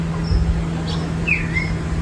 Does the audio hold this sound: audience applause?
no